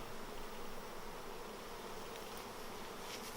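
Honey bees buzzing at a mini nuc hive: a faint, steady, close hum of many bees with no break and no voices.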